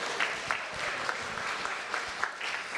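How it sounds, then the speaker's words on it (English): A church congregation at a Sunday service applauds itself, a steady, even wash of many hands clapping at moderate distance, with scattered sharper claps standing out. "Give yourselves a round of applause."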